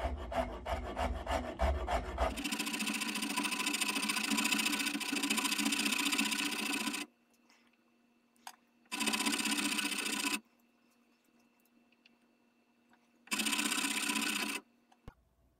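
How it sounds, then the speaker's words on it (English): A rasp scrapes the wooden stock of an original Kar 98 rifle in long continuous rough strokes, then three separate bursts with silent pauses between them, close and steady. "To bring this area down, I'll use a rasp."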